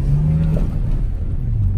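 A rare Saab V6 engine idles and runs steadily close by, a continuous low hum with a brief rising tone early on, no voices over it.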